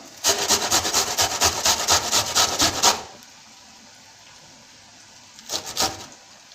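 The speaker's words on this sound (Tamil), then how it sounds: "இப்போ நம்ம சீவிட்டோம் பெரிய வெங்காயத்தை" A large onion rubbed against a hand grater in rapid, even back-and-forth strokes for about three seconds, then a short second burst of grating after a pause, close and fairly loud.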